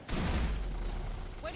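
Troopers in Starship Troopers: Terran Command open fire in a short, dense burst of rapid gunshots layered with rumble, heard up close for just over a second.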